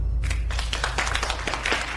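A crowd at a company celebration claps steadily to welcome a guest of honor, with dense, moderately loud applause that continues throughout.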